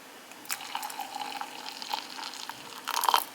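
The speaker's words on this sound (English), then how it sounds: "I like to add the water." Small amount of water poured into a glass for an iced pumpkin spice matcha latte, soft close splashing and trickling in short bursts with a brief clink near the end.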